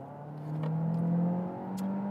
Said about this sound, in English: at 50 and I hit the throttle